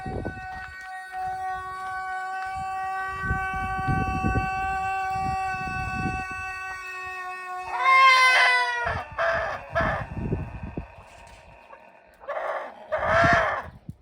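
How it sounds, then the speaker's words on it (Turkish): Chickens and a rooster in a farmyard call out, with a long sustained tonal cry followed by loud squawking clucks in bursts, near and fairly loud, with rustling noises in between. "Tavuklar çok inat."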